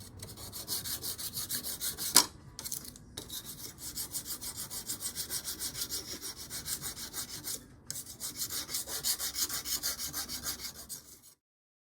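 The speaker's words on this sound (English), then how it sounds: "Go back and get it filed." Steady rasping strokes of a file smoothing sharp edges and burrs off a stone armrest with cup holder for a Toyota Land Cruiser HJ60, close up and continuous with a few brief pauses and one sharp knock.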